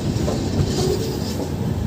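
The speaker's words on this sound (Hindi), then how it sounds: "चलिए दोस्तों अब मैं आपको इस ट्रेन का चंदौसी जंक्शन से डिपार्चर दिखाता हूँ।" An Indian Railways train pulls out of Chandausi Junction, its wheels giving a steady, close rumble with faint rhythmic clatter and no voices over it.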